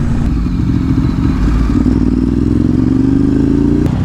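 A Ducati 848 EVO motorcycle rides through the Mulholland canyons, its loud, deep engine drone close and continuous, with pitch slowly rising under acceleration and wind rumble throughout.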